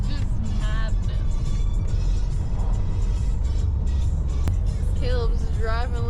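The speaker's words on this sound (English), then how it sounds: "Caleb's driving like a champ over here in this insane cliffside road" A car drives along a steep cliffside road, its steady engine and road rumble continuous throughout, with voices talking over the drone.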